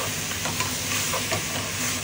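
Meat sautés in a pan for pinakbet, giving a dense, steady sizzling hiss that stays close and even for about two seconds with faint stirring beneath, and no voices.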